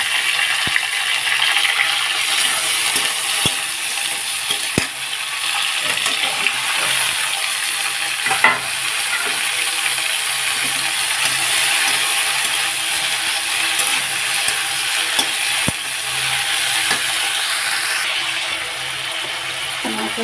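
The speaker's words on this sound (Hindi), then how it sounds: "मूली है, गोभी है, इन सबको हम अच्छे से भून लेंगे" Radish and cauliflower fry in a pan, giving a loud, steady hiss with repeated scraping and clicking as they are stirred, and no voice over it.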